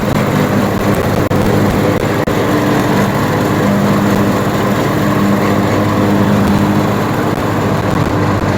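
A lawn mower cutting a yard near a palm tree, its small engine droning loud and steady close by for the whole stretch, with no speech.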